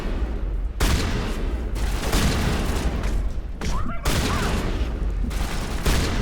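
Gunfire from the video game Mass Effect 1 Legendary Edition comes in loud, repeated bursts of shots and booms, with brief gaps between volleys.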